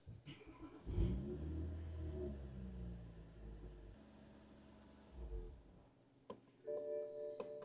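A BMW 335i with the N55 engine idles steadily after a start-up surge, its rumble holding for several seconds before the engine runs out of fuel and stalls, leaving near silence broken by a few clicks and a chime.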